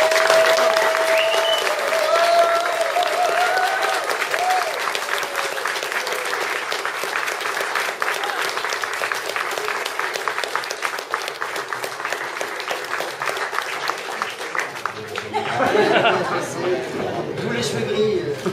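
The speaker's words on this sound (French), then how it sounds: "et la salle peut les applaudir." Wedding guests applaud in a hall after a couple is united in marriage, a sustained burst of dense clapping lasting many seconds, with some voices and chatter rising near the end.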